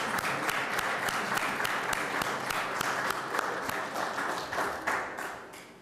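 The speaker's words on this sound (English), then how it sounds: "Can we please give these folks a round of applause?" Sustained round of applause from an audience at a Safe Streets community gathering, dense steady clapping that tapers slightly toward the end, loud and close with no speech.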